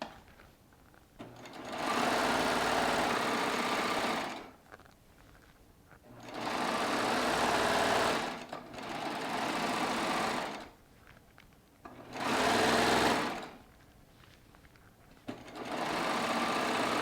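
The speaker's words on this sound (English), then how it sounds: "a great way to get a nice, healthy selvage is by trimming it on your serger" Baby Lock serger trimming a fabric selvage, running in steady bursts of a few seconds each with brief pauses between, close and loud, with no talk.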